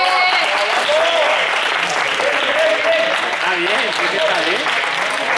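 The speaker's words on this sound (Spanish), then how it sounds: "¡Un aplauso, hombre!" A classroom group breaks into steady, loud applause that carries through the whole stretch, with voices talking over the clapping.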